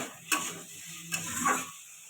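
Vegetable curry being stirred in a pan, a few brief close scraping strokes with a faint sizzle underneath, no voices.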